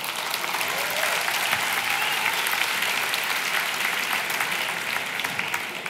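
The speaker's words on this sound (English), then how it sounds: "I would love to give a round of applause to all the volunteers who are making this a great success." A large conference audience gives a sustained round of applause, dense and even clapping with no pause across several seconds.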